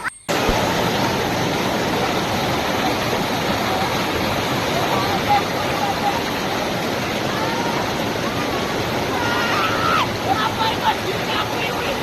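Rushing water roars steadily at a water park, a loud continuous wash broken by surges, with the noise of people and faint shouts mixed into the din.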